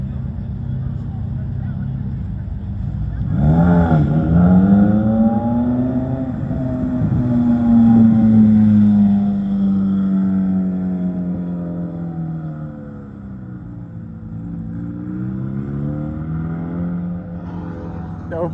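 A 720 GTR pulls up at a Greddy car meet, its engine revving loudly and steadily close by, pitch rising and falling over sustained low rumble, with voices in the background.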